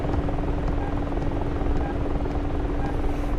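A helicopter rotor in the DCS flight simulator thrums in a steady, loud drone, a constant low beat with a hum layered on top that never lets up.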